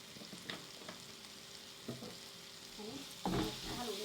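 Spices being stirred into soya palak frying in a pan at home, with a few scraping stirs and a soft sizzle underneath, close and fairly quiet, no talking.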